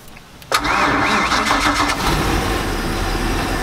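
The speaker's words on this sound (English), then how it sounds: "So let's fire the motor up, check it out." The engine of a 1999 Chaparral 1930 SS boat under restoration cranks briefly, then catches and settles into a loud, steady idle close by, with no one talking.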